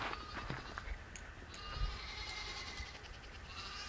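A baby goat on a farm bleats in short, strained cries over a steady background hiss, with faint thumps in between.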